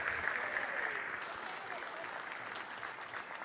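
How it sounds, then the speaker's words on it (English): A crowd applauds a senior honoree at a college women's basketball game in an arena, a steady wash of clapping that holds evenly from start to finish. "Ladies and gentlemen, one more round of applause for John"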